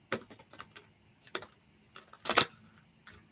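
Slippery tarot cards being shuffled by hand, a series of quick, crisp flicks and riffles in irregular bursts, close and fairly quiet, with the loudest flurry near the middle.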